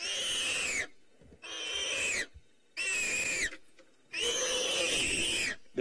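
A big male warthog screams as a lioness of a pride grips its throat, four long, loud, harsh wheezing squeals separated by short gasping pauses, close by and with no voices over them.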